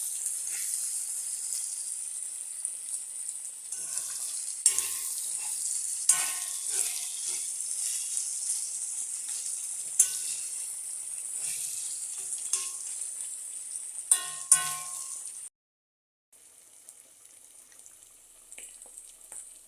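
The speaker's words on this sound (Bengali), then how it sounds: "এইভাবে করে মাছ ফ্রাই করে খেয়ে দেখবেন আপনারা" Fish fries in a pan with a constant bright sizzle and scattered crackles. The sound drops out briefly near the end, then returns more softly.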